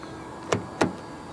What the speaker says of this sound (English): To lock the trunk, press the indentation on any of the front door handles.